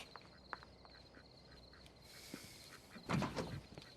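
Faint, scattered quacking from several ducks, a little distant, with a busier burst of quacks near the end over a quiet outdoor background.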